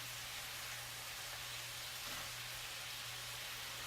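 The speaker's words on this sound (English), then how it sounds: "I like a good medium-high heat that gets things sizzling" Bell peppers and onions sizzle in a pan over medium-high heat, a soft, steady hiss that runs unbroken beneath a low hum, with no talking.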